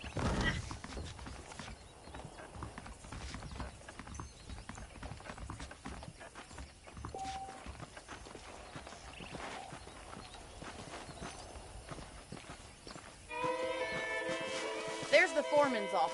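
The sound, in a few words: saddled horses walking, clip-clop, from Red Dead video game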